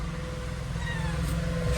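A cat gives a drawn-out meow over a steady low background hum.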